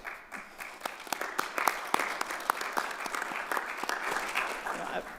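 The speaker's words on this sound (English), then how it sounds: "I was going to invite the audience to please join me in a large round of applause" Audience applause at a university campus update meeting, a dense patter of many hands clapping steadily throughout, fairly near and full, with no talking over it.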